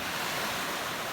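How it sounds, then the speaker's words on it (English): Ocean surf at Barberry Beach, a steady loud wash of breaking waves mixed with wind across the mic, continuous with no talk. "we're out here at the Barberry Beach"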